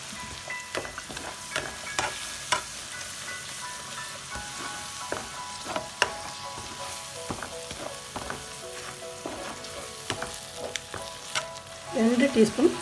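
About a cup of unsour yogurt stirred into sizzling mustard chicken in a pan: a soft, steady sizzle with regular spoon scrapes and clicks, swelling into louder bubbling near the end.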